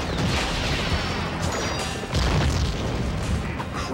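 Bomb explosions in the Spider-Man 3 video game: a dense, loud rumbling roar with repeated heavy booms and crashing bursts, sustained throughout with a fresh surge midway.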